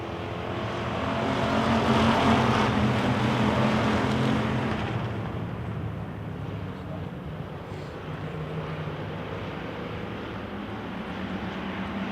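Wissota pure stock race cars roar around a dirt oval track on the green flag, a dense, sustained engine drone swelling and fading slightly as the pack passes at a distance.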